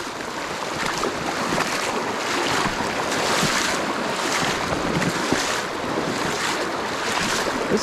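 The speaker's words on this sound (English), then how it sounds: "Sorry about the rushing water, but it's about the only way to get to the other side." Strong river current rushes steadily during a hike to cross to the other side, a loud, continuous wash of water with wind buffeting the microphone throughout.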